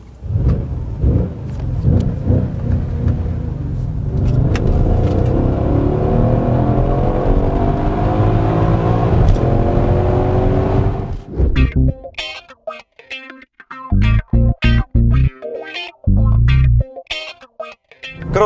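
Mercedes-AMG GLC 63 S Coupé engine revs up loudly and holds a roaring, rising drone for about ten seconds, then drops into sharp, crackling bursts and repeated short throttle blips close by.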